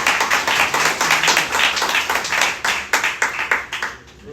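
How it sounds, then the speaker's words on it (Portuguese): Congregation clapping in church praise, a dense run of rhythmic handclaps at steady pace, loud and close, fading out near the end. "Uma salva de palmas ao Senhor"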